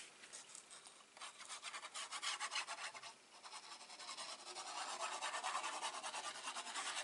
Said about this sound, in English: Give it a good burnish.